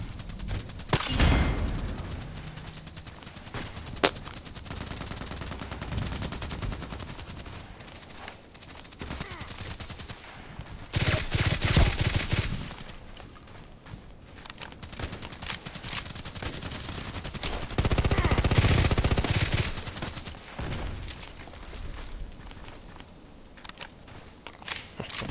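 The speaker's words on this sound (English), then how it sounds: "Shooting." Mosin Nagant rifle gunshots, several loud reports spread across the stretch with clusters of bursts and echoing booms among background range noise, mostly free of speech.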